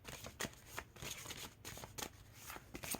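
Tarot cards are shuffled close up in quick bursts of soft riffling and flicking, repeated several times at a low, intimate level with no talking.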